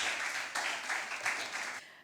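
An audience at an impromptu speaking competition gives a short burst of applause for a contestant, fairly quiet and distant, with the clapping thinning out near the end.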